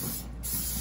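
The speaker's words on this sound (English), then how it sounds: "I give it a pretty good little spray." A brief steady hiss of cooking spray coats a hot grill set around 425 to 450 degrees before northern pike goes on, close and continuous with a short dip midway.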